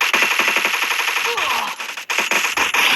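Rapid, loud automatic gunfire in a video game, a close machine-gun rattle of evenly spaced shots with a short break midway.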